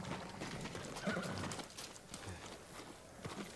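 Horse hooves clip-clopping as a samurai horse walks in the video game Ghost of Tsushima, a fairly faint repeated footfall pattern with a short whinny-like sound, no talk.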